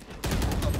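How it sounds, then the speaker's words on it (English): A gunshot burst fired through smoke in Valorant, a sudden loud onset followed by a dense, sustained rattle of rapid shots close up, with no talking. "She shot through the smoke."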